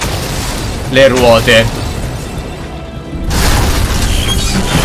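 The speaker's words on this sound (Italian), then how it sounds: "L'esplosione ha aperto un'altra via." A video game explosion in Monsters vs Aliens on PS3, a sharp crashing burst followed by a rumbling roar, with a voice talking over it in the game.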